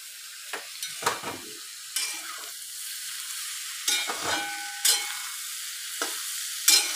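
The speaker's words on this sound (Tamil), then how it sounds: "இன்னும் கொஞ்சம் நேரம் காய் வதங்கட்டும்" Bitter gourd frying in a covered pan over a raised flame, with a steady faint sizzle broken by several sharp scraping stirs and lid knocks spread across the stretch, and no voices.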